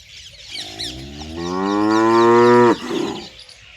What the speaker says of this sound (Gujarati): આ ગાય હમણાં નવી લાયા